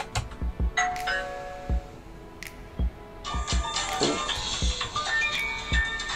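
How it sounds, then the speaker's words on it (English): A wireless video doorbell chime rings out amid tapping and clicking, with a melodic electronic tone sounding in the second half. "I'm going to press the doorbell and we're going to see if it connects."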